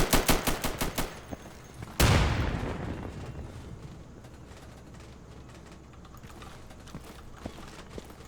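A frag grenade detonates in a New World PvP match: a quick volley of sharp gunfire-like cracks gives way to one loud, heavy blast whose boom rolls off and fades over several seconds.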